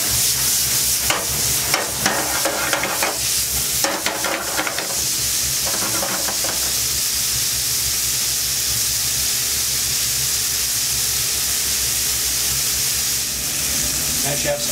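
Bacon sizzling in a frying pan with a steady loud hissing crackle throughout, occasional clatters of stirring or moving pieces early on, and someone talking intermittently over the sizzle.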